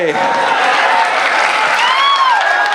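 A large crowd claps and cheers steadily at a packed outdoor stage show in Sheikh Russel Stadium, Mirzapur, Tangail. The dense, continuous roar stays loud throughout, with a few whistle-like tones rising over it.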